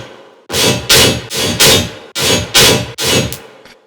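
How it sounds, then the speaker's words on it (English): A dubstep synth patch with no effects on it plays six loud, punchy broadband hits in pairs, each a short sustained growl with a hard attack, with a faint tail at the end. "So usually this sound patch sounds like this."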